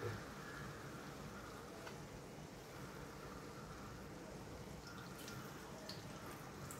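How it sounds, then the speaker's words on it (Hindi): Coconut water being poured into a cooking pot for idiyappam korma makes a steady, soft trickling and splashing that runs continuously, with a few faint drips toward the end. "अब मैं इसमें पानी, 2 कप पानी जाएगा इसमें"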